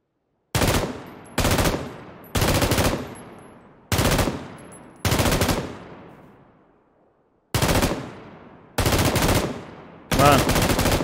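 An M249 machine gun in PUBG fires eight sharp bursts, each a quick rattle followed by a ringing decay. The bursts are loud and close, separated by short gaps, with one longer pause near the middle.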